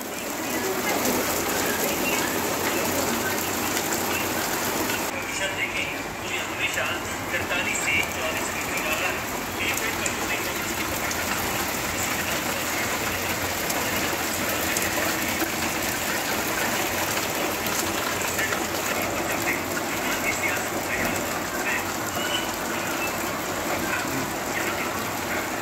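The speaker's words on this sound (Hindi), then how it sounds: "बाहर देखो तुम क्या बारिश लगी है, पता नहीं कितने दिनों के बाद बारिश हो रही है आज, फुल दबा के बारिश आई है" Heavy rain pours down outside in a steady, dense hiss that holds evenly throughout, with no voices over it.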